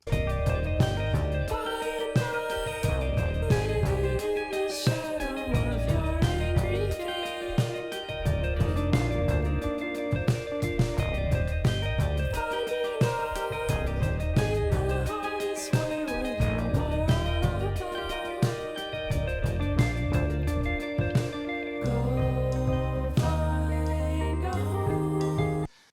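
A full indie rock band track with drums, bass and guitars, analog-sounding, steady rhythm and melody throughout, loud and continuous, no talking.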